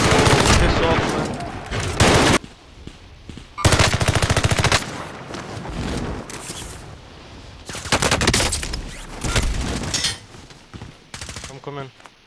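Video game shootout with loud bursts of rapid automatic gunfire in several volleys, close and dense, broken by short pauses.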